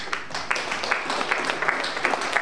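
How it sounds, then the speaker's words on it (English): An audience claps together at an evening kids' program, a steady dense patter of many hands at moderate loudness, with no one talking over it. "Give yourself a round of applause."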